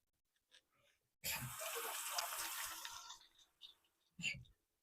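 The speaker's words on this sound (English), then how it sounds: "Let me wash my hands." Hands are washed under a running kitchen tap, a near gush of water lasting about two seconds, followed by faint splashes and a short final burst of water.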